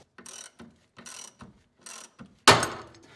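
A ratchet cranks down the bolt of a ball joint remover tool on a 1982–1992 F-body tie rod end. Several evenly spaced clicking strokes are followed by a sharp, loud pop as the joint breaks free.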